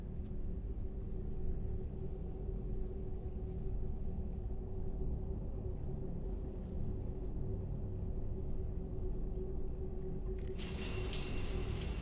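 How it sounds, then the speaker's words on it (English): A shower runs in Mass Effect 3, giving a steady, even hiss of water with a low rumble under it. Near the end a sudden brighter splash or spray comes in. "I figured you'd be more interested in a shower."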